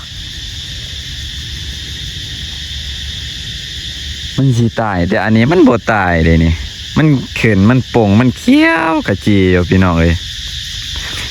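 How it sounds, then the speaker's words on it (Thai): A continuous high, buzzing drone of cicadas fills the background in an abandoned village in southern Laos while someone talks loudly over it for most of the clip. "ทั้งเสียงจักจั่นทั้งเสียงคน"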